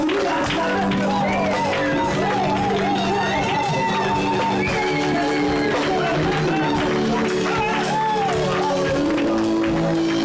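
A church congregation cheers and acclaims during a lively worship service, a dense, loud crowd of voices with scattered shouts that carries on without a break.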